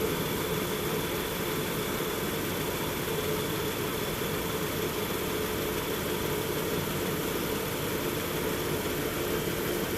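A car engine idles steadily and fairly loud for the whole stretch during a battery charging test, a continuous low hum and rumble with no talk over it.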